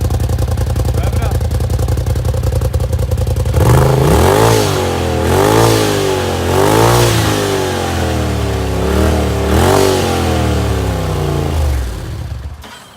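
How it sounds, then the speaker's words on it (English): Polaris RZR turbo side-by-side fitted with an aftermarket muffler, idling steadily and then revved hard several times in a row, each surge rising and falling loudly close by, before settling back toward idle. "Go ahead and rev it up, Nate."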